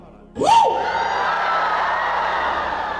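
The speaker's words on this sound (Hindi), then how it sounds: "तो मैं कहता हूं डराने वाली चीख मार दो एक बार।" A crowd lets out a sudden loud frightening scream together, a sharp rising yell that peaks and then fades into sustained shouting and cheering that carries on at a steady level.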